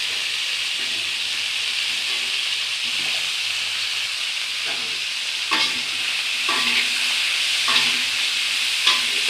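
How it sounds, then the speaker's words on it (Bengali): Cauliflower, carrot and capsicum fry together in oil with a loud steady sizzle and hiss, broken by a few stirring scrapes against the pan. "সব একসঙ্গে ভেজে নেব"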